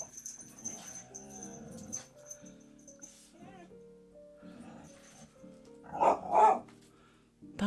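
A dog named Rory gives a few short barks and whimpery yelps, with a louder burst near the end, over soft indoor background sounds.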